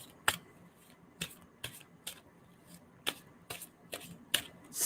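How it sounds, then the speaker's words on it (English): Playing cards being riffle-shuffled close by, a string of crisp, sharp bursts at irregular intervals of about half a second, quiet and with no talking. "Tell me when to stop shuffling."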